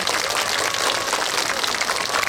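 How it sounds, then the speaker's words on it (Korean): An outdoor park audience applauds after a poetry recitation, giving brisk, dense clapping from a crowd that stays loud and continuous throughout. "따뜻한 경려 박수 한번 부탁드립니다"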